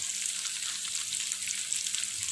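Long beans and tofu puffs crackle and sizzle in a hot pan, a loud, close, crisp frying hiss that runs continuously without pause or voices.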